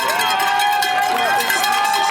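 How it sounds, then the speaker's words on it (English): Spectators cheer and clap steadily for girls finishing a middle school cross-country state championship race, with a cowbell clanking and whistles or shouts rising over the busy crowd noise. "Getting some good crowd support as they finish."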